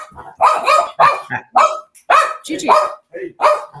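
Gigi, a pet dog, keeps barking protectively indoors in loud, close, repeated barks at an uneven rhythm, while a person speaks over and between them.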